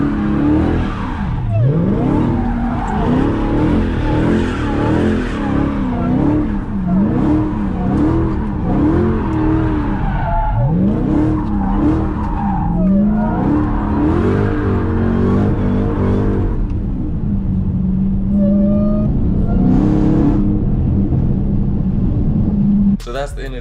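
A car doing exit donuts in second or third gear, wheels spinning and RPMs held high: a loud, close engine revs continuously, its pitch swinging up and down with tire noise throughout.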